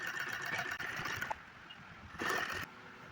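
A sewing machine runs in short stitching bursts, with brief pauses between runs while a single seam is sewn; the motor is quiet and close.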